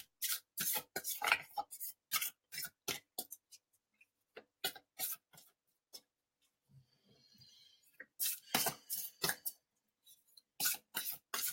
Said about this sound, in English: Okay, I'll keep shuffling.